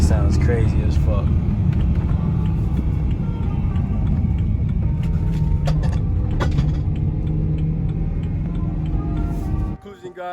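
Running close by, a BMW E93 M3 with a new exhaust setup gives a deep, steady rumble for about ten seconds, then cuts off abruptly near the end.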